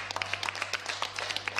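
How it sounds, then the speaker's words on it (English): A small group gives a round of applause, quick uneven claps repeating steadily at moderate distance, fairly soft, with a low steady hum underneath. "he got a round of applause"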